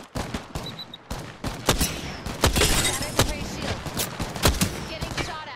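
Gunfire in Apex Legends, rapid bursts of automatic shots and scattered single cracks with some glassy shatter, loud and close, mixed with game effects and no speech.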